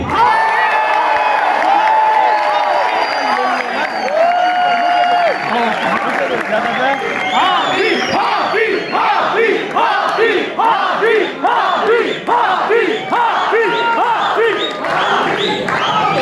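A large crowd at a university mushaira in Islamabad erupts in applause, cheers and rhythmic chanting for a poet, loud and sustained with shouted voices throughout.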